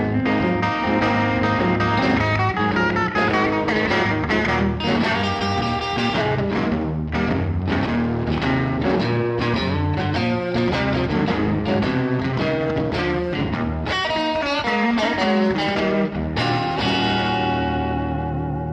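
Electric guitar played with a Stevie Ray Vaughan style blues tone, loud and driven with distortion, echo and chorus effects, a continuous run of bent notes and chords with no talking.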